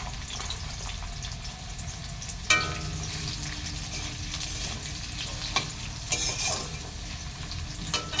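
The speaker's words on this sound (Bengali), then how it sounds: "তো সব এখন আদা রসুন টমেটো লঙ্কা পেস্ট একবারে দিয়ে দিলাম।" A ginger, garlic, tomato and chili paste fries in a pan with a steady, moderate sizzle, broken by occasional clinks and stirring scrapes close by.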